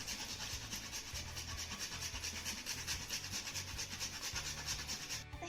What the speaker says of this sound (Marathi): त्यानंतर थोडंसं जायफळ यामध्ये आपण किसून घालूया.